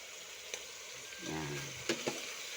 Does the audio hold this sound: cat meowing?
no